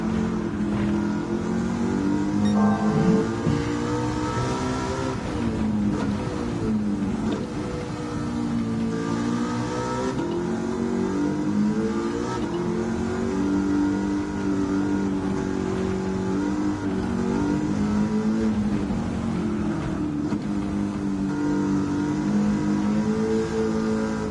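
An engine-swapped De Tomaso Pantera in Gran Turismo 7 drones continuously at high revs, its pitch rising and dipping through gear changes and throttle lifts, loud and steady throughout with no talking.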